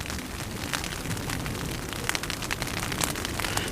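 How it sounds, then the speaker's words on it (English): Light rain falls on a backpacking tent in the Flat Tops Wilderness, a steady close pattering of drops on fabric with scattered sharper taps, no voices. "It's starting to rain."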